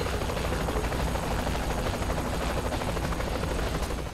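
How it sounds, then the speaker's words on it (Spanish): Helicopter in the video game Saints Row The Third, a steady dense rotor and engine roar holding loud and continuous throughout with no break. "Subamos al helicóptero."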